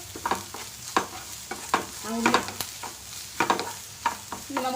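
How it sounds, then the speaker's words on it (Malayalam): Onions fry in a pan for vattayappam prep. A spoon stirs them in a series of sharp scraping clinks over a soft, steady sizzle, with no talk. "നല്ലതുപോലെ ഒന്ന് ഇളക്കി കൊടുക്കണം. ആ ഉള്ളി ഒന്ന് മൂത്ത് വരുമ്പോഴേക്കും"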